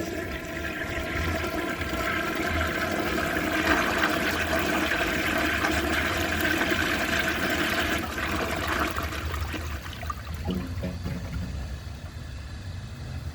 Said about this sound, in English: I'm going to give that another flush and I'm going to see how much of the dirt it can remove